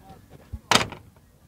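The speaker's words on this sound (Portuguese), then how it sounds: "A batida da porta tá boa" A Ford F4000 truck door is swung shut, giving one solid, close thump followed by a short metallic rattle, with quiet surroundings before and after.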